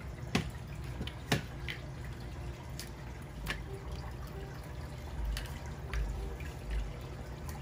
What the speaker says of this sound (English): There we go. Fast little trickle.